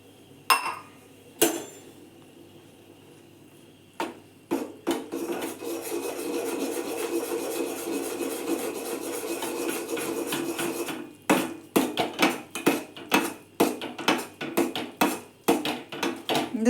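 Ragi flour being mixed for ragi mudde in a village kitchen: quick, rhythmic scraping and knocking against a pot, first in scattered strokes, then a steady grinding stretch, then a fast run of sharp, repeated taps.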